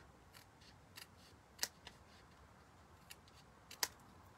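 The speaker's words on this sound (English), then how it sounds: "just get in there with your snips and just even that up." Snips trim the edge of a cardstock card with a few short, crisp snipping clicks spaced irregularly, close and quiet, with no voices.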